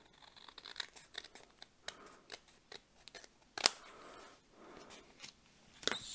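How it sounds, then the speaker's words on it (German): Scissors snip a small overhanging corner off a folded paper bookmark card, with a handful of crisp, close cuts spaced irregularly between quiet handling of the paper. "Wenn jetzt hier noch so eine kleine Ecke übersteht, nehme ich einfach meine Schere"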